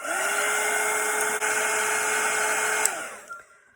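A hair dryer blowing on wet paint on a gingerbread painting, a loud steady whine held for about three seconds, then switched off and winding down.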